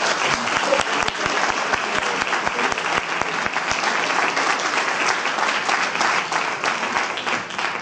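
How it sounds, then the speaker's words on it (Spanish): Sustained, dense applause from a lecture audience fills the whole stretch at a steady, loud level, with no talk over it. "Quiero pedir un fortísimo aplauso para José Miguel Pérez Navarro"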